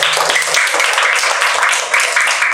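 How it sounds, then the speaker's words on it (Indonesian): Classroom applause for a student group in a lesson on unity, a dense steady clapping from many hands that stays loud and continuous throughout, with no voices over it. "Berikan tepuk tangan untuk kelompok 2."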